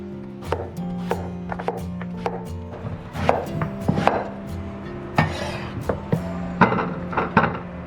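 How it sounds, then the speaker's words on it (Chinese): A knife slices peeled, seeded winter melon into pieces on a cutting board, giving a close run of crisp, uneven chops and thunks over a low steady hum, with no talking. "我们就给它切成片。"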